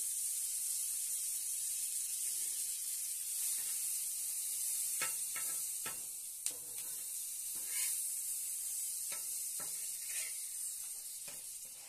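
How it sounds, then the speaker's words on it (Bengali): Butter sizzles softly under a hand-made pitha toasting in a pan, a steady faint hiss with a few sharp ticks and scrapes scattered through, no talking. "বাটার দিয়ে সেঁকে নিই"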